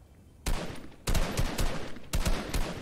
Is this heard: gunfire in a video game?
yes